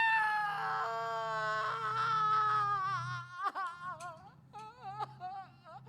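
A high, wavering wail of crying and sobbing from an interactive story, sustained at first and then breaking into shorter whimpering sobs, fairly close and alone.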